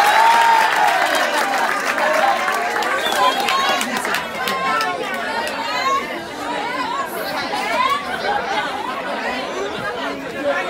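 An audience at a school science quiz opening event claps and cheers, loud overlapping clapping and excited voices with a crowd chatter, tapering slightly but continuing throughout.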